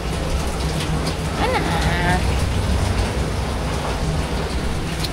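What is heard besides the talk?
rain and storm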